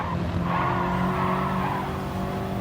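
Nissan GTR race car in a racing video game, a loud sustained engine roar with tire squeal and skidding running steadily throughout, no talking.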